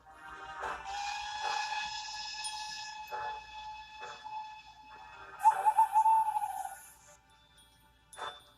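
Small steam-engine-style train whistle from a children's railway story, several high tonal blasts of varying length, fairly clear over a quiet background with no talk.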